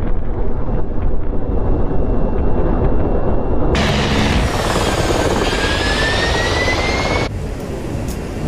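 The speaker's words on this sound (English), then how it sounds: "It's an attack helicopter, it's also a transport helicopter, and it's very heavy." A heavy Mi-24 Hind attack and transport helicopter roars loudly and continuously in DCS World combat flight, a strong rotor and engine rumble with rising whine and wind rush in the middle section.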